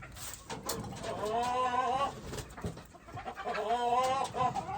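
A close gray gamefowl rooster gives drawn-out, wavering calls twice, loud and nasal, with scattered clucks in between.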